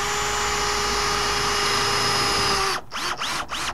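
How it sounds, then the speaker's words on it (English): A power drill drives a machine screw through two overlapping metal pieces of stucco J-trim on a commercial plastering job, with a loud, steady high whine that abruptly cuts out near the end into a few short stuttering bursts as the screw binds. "I'm going to get one screw in here. And we're going over two metals."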